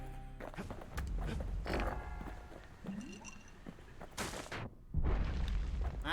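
Grenades go off in the video game Bastion, several heavy booming blasts in quick succession, loud and close, with a big burst near the end amid clattering combat sounds.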